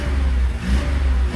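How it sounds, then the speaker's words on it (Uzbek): A Daewoo Damas minivan engine revs as the throttle is pressed, a steady loud mid-range roar that swells and dips slightly, close by, with no talking. "ikkita gaz bosib, motordan ovozni eshitib ko'rasiz"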